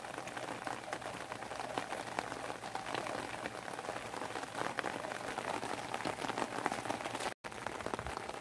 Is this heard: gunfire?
no